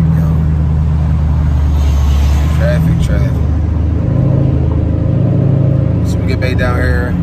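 Steady road traffic on a street in West Philadelphia, a low continuous engine rumble from vehicles nearby with passing cars, heard from inside or beside the flow of traffic for several seconds.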